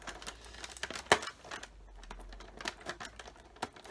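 Plastic packaging crinkles and rustles in quick, irregular bursts as it is removed from a 1/6 scale figure, with one sharp snap, close by and fairly quiet.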